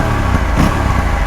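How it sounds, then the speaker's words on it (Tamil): An Aprilia RS 457 motorcycle's exhaust rumbles loud and close in a short burst of engine sound with a slight rough swell partway through. "exhaust note"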